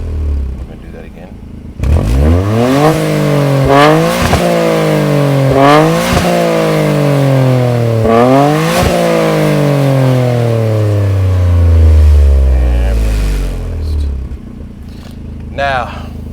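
A Toyota GR Corolla fitted with an MST Performance downpipe revs loudly and close by, with a series of sharp throttle blips that rise and fall, then one long sweep up through the full rev range before the engine settles back to idle.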